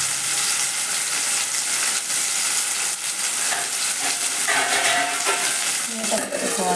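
Cucumber and tomato fry in a pan with a loud, continuous sizzle, while stirring adds scraping and shuffling close up.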